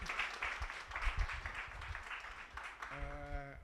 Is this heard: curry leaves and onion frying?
no